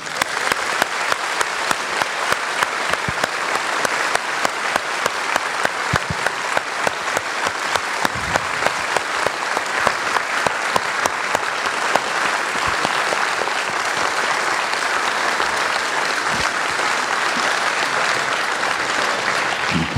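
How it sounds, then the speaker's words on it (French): A hall audience gives long, even applause after a cosmology talk, dense clapping with a faintly rhythmic pulse that stays steady throughout without voices. "Et je voudrais qu'on ait un applaudissement pour Bruno."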